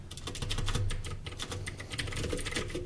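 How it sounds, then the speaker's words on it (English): Loud computer keyboard typing up close, a fast, continuous patter of sharp key clicks and clacks with no pauses for nearly three seconds. "What are you click clacking away over there? This keyboard is really loud."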